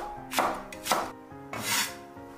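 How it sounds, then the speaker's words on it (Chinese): A knife chops a leek (scallion) into short lengths on a board, three separate bursts of firm cutting strokes, close and moderately loud, with no voices. "一根大葱给它切成小段"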